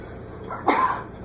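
A single short, sharp sneeze bursts out against quiet background noise.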